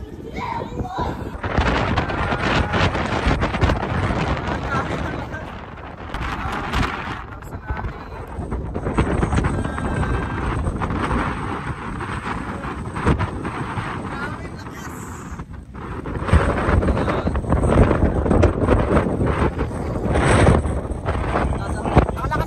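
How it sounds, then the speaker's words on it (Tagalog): Strong outdoor wind gusting hard against the microphone in the United Kingdom, loud buffeting rumbles rising and falling in waves, with people talking over it at times. "Tapos napakahangin."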